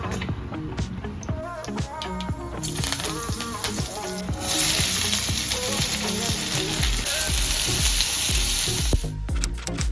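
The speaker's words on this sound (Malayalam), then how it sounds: "ഇനി ഇത് ഉള്ളി വരട്ടാൻ പോകുന്നു." Onions sautéing in a pan for masala dosa filling, a close frying sizzle broken by repeated scrapes and clinks of stirring, growing louder and hissier midway, with no talking.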